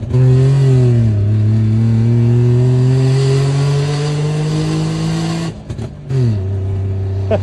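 A DKW Vemaguet two-stroke engine fitted with an exhaust diffuser revs loudly and steadily at high speed, drops briefly, then climbs again, close and alone with no talking.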